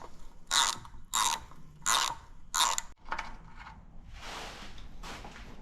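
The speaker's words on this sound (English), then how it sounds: "we're going to be using a 13 to remove these pan bolts" A ratchet with a 13 mm socket loosens transmission pan bolts on a 4L65E, giving four distinct bursts of rapid clicking followed by softer ratcheting and scraping, close and clear with no voices.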